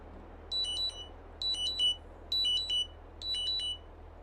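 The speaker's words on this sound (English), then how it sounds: "That's my alarm." A blood sugar monitor alarm goes off in four repeated bursts of bright electronic beeping, each a quick double chirp pattern, clear and fairly close over a low steady hum.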